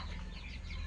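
Chickens clucking softly in a steady low murmur inside a pen on a farm, close by, with no voices.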